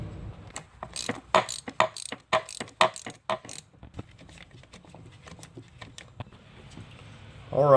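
A ratchet on a 10mm bolt at the thermostat of a 2013-2016 Dodge Dart with the 1.4L turbo clicks in quick, close bursts of ratcheting strokes, then falls to quiet shop ambience.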